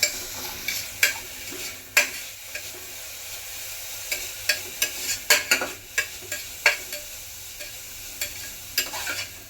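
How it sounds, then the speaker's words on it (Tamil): A spoon stirs vegetable soup with cumin and pepper in a pan, making repeated sharp scraping knocks against the metal in an uneven rhythm over a continuous soft sizzle. "நல்லா அதையும் சேர்த்து மிக்ஸ் பண்ண போகிறோங்க"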